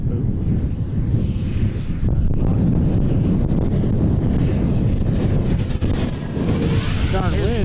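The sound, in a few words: Dynam Gloster Meteor twin 70mm RC jet flying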